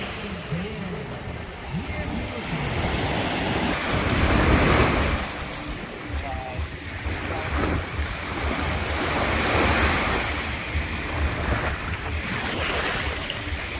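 Waves roll and wash onto the shore in steady surges at a beach in Cancun, Mexico, with wind buffeting the microphone and voices faintly under the surf.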